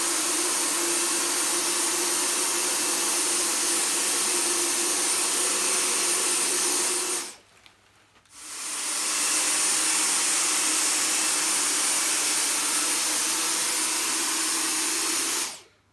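A Dyson V10 cordless vacuum cleaner sucks up couscous, rice and dust with a loud, steady high-pitched whine. It cuts out briefly near the middle, restarts at full power, then shuts off at the end.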